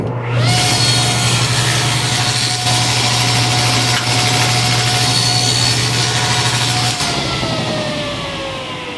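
Table saw blade ripping a test cut through wood for a paneled kitchen cabinet door, a loud steady motor whine with the cutting sound held for about seven seconds before the blade spins down.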